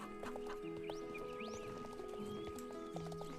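Horses walking in the Star Stable video game, soft rhythmic hoof clip-clops mixed with game ambience and tones, a few faint whinnies, all quiet and continuous.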